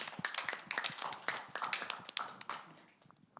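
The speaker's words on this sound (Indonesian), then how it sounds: "Tepuk tangan dulu untuk Putra" A small church gathering claps for a young man named Putra, with sparse, distinct handclaps from a few people close by that thin out and fade toward the end.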